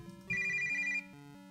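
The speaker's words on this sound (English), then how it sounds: "No, that sounds too much like a phone." A short electronic phone ringtone from RPG Maker chirps for under a second, a bright warbling tone laid over soft, steady background game music.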